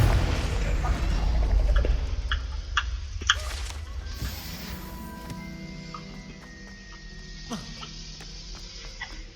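A Confringo spell explosion in Hogwarts Legacy hits with a loud boom, followed by crackling bursts and sharp pops. A dense rumbling tail slowly fades out behind it.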